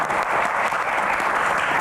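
A steady wash of studio audience applause on an Indonesian Q&A talk show about hajj quotas, many hands clapping evenly and continuously at moderate volume with no voices standing out.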